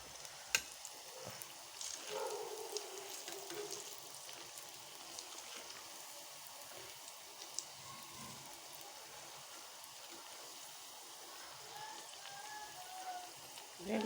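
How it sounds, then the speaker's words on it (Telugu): Moong dal vadas frying in hot oil in a pan, giving a steady, moderately quiet sizzle with soft crackles and occasional small pops throughout. "ప్యాన్లో ఆయిల్ పెట్టాను, హీట్ అవుతుంది. ఇలాగ నూనెలో వేసుకోవాలి."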